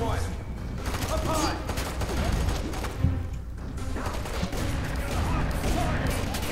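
Shotgun and other gunfire in the F.E.A.R. 3 video game: dense, continuous bursts of loud blasts and rattling shots over a steady din of combat noise, with a sharp, prominent report about halfway through.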